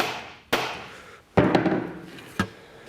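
A part on a 1960 BSA Bantam D7 motorcycle is knocked back into place with three sharp, separate taps spaced about a second apart, close and fairly loud.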